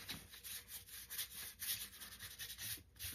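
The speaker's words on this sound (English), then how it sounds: "So again, just rubbing colors." Paint being rubbed onto bubble paper with a brush or sponge, a continuous close scratchy rubbing in quick repeated strokes, with no talk.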